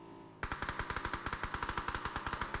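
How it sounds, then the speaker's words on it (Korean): Automatic gunfire from allied players in a video game rattles out in a rapid, steady stream of loud shots, starting abruptly and continuing without pause. "아군이 쏘고 있죠"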